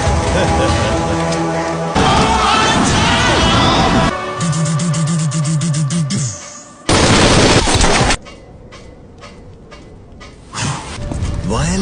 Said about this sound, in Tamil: துப்பாக்கி